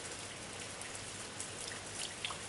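A summer rain shower falling steadily, an even wash of raindrops hitting surfaces with a few closer drips, with no voices.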